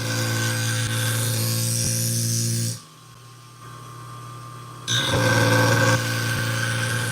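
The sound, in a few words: sharpening industrial scissors on a 240 grit diamond wheel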